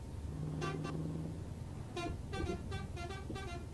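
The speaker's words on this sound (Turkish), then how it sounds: "kornası da var. Havalı korna." Several short blasts of a deep air horn on a Scania R560 V8 truck in Euro Truck Simulator 2, the first held briefly, then a rapid series of honks over a steady engine drone.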